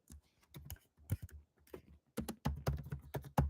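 Keystrokes clatter on a computer keyboard as code is written, a near, irregular run of clicks that starts sparse and grows into a dense, rapid burst toward the end.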